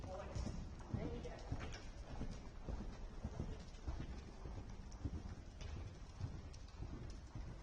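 Horse cantering during a riding lesson, its hooves thudding in a steady rolling rhythm on a soft arena surface, moderately distant and muffled, with a continuous low background and some chatter nearby.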